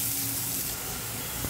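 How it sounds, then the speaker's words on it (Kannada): Water is poured into frying mutton liver masala on a medium-low flame, producing a steady hissing sizzle and wash close by, with no voices. "ಈ ಮಸಾಲೆ ಪೌಡ್ರ್ ಏನು ಹಾಕಿದ್ರೆ ಅದನ್ನು ಸ್ವಲ್ಪ ಹಸಿ ವಾಸನೆ ಹೋಗಲಿ ಅಂತ ಒಂದು ಸ್ವಲ್ಪ ನೀರು ಆ್ಯಡ್ ಮಾಡ್ಕೊಂಡಿದ್ದೀನಿ"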